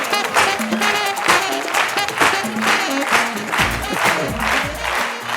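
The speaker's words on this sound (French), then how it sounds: "sous vos applaudissements" A comedy show audience at Le Parlement du Rire applauds a comedian from Cameroon, steady lively clapping with some cheering voices mixed in, continuing for several seconds.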